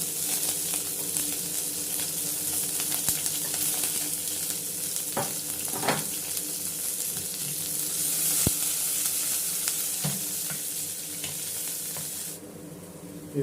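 Onion and chopped garlic fry in a generous amount of hot oil for a home breakfast, giving a steady broadband sizzle with occasional stirring scrapes and clinks throughout, no voices.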